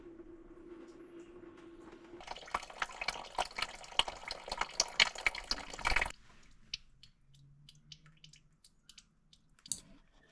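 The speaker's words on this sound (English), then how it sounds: "we open the drain plug slowly and allow the coolant to drain completely" Coolant draining from the drain plug of a Hyundai i30 FD, a steady splashing stream of liquid into a catch container for a few seconds, then stopping and leaving scattered drips and faint handling noises, no talking.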